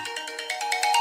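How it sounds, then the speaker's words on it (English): A mobile phone ringtone plays a quick repeating electronic melody, clear and fairly loud, alone with no talking over it. "My phone ringing"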